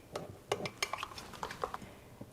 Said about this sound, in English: So mix it and make sure you scrape the bottom of the mug.